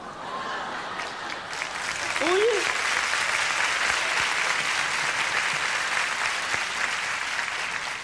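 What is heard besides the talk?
audience applause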